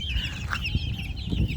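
Young chicks on a backyard farm give short clucks and peeps over a steady background of chirping and rustling, close by and moderate in level.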